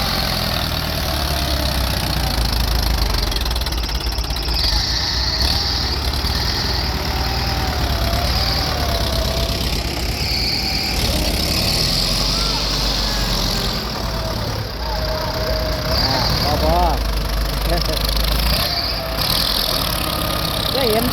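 A tractor engine idles steadily throughout, a continuous low rumble with mechanical chatter, while people talk over it.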